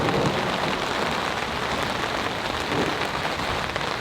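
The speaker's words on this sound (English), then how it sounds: "What we're getting is just a little bit of rain from the beginning." Steady light rain falls on surfaces at a campsite as a storm begins, a dense continuous patter with occasional faint low rumbles, no voices.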